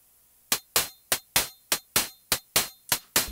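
FM-synthesized hi-hat hits from Adlib Tracker II tracker software, ten crisp bright metallic ticks in an uneven rhythm, some short and closed, others ringing slightly longer, each decaying quickly, with nothing else heard.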